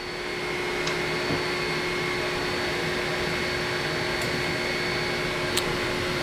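A 20 W all-in-one laser cutter and engraver's exhaust fan pulls air in a steady, loud broadband whoosh with a faint constant whine, continuous throughout with a couple of tiny clicks.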